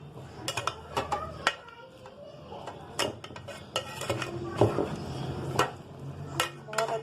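A spoon works through beef biryani ingredients with a little oil in a metal pot, giving continuous close scraping and stirring with frequent sharp clinks of utensil on metal.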